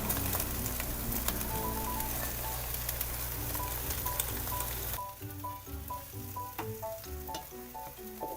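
A savory pancake sizzles loudly and steadily in an oiled pan, the frying drops abruptly quieter partway through as it is flipped, while soft background music plays throughout.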